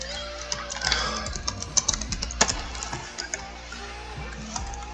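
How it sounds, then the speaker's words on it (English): Keys clack on a computer keyboard in a school setting, irregular taps and short bursts of keystrokes fairly close, with a faint voice and background hum underneath. "Sorry for the typing."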